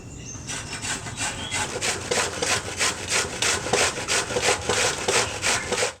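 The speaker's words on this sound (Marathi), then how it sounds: "इथे मी बारीक किसणी घेतली आहे त्यावरती मी हा किसून घेणार आहे" Half a cabbage rubbed against a fine kitchen grater produces a quick, regular series of rasping strokes, roughly two per second, close and clear with no talking.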